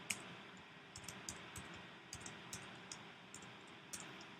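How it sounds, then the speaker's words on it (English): Soft keystrokes patter on a computer keyboard as a formula is typed in, a dozen or so light clicks in an irregular rhythm, faint and close in a quiet room. "I'm going to type in the formula for H. I want you to notice I'm literally typing it in."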